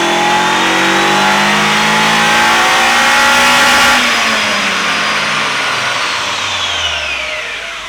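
A Nissan Silvia S15 Autech engine revs up and drops back smoothly, a steady loud drone rising then easing off, close by.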